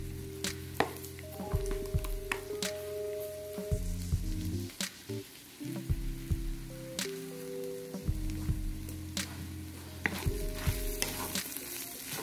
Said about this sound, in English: we are going to give this a nice stir to make sure all the flavor is saturated right throughout our lovely fried rice